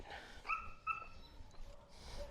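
Dogs at a loose-lead walking training session giving a couple of short, fairly faint yips or whimpers against quiet background, with no clear talking over them.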